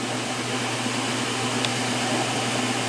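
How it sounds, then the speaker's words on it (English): A 1996 Maytag Dependable Care Plus washer spinning on a permanent press cycle gives a steady, close whirring hum with a faint rattle from the shaking tub, running evenly with no talk. "This thing is spinning, and the washer is shaking a bit."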